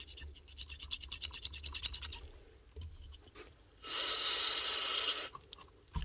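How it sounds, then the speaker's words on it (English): Contact cleaner sprays into the switch of a Dewalt cordless power tool in one loud, steady hiss lasting over a second, preceded by faint scratchy handling and rubbing noises. "All you need to sort it out with a good old contact cleaner. Give her a good dose."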